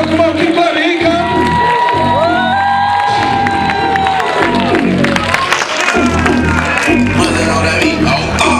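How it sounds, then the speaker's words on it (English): Club comedy-show crowd clapping, cheering and whooping loudly and continuously while the next comedian is brought on, with shouts and a host's voice over the noise. "Start clapping right now for the one and only comedian Muhammad in the building"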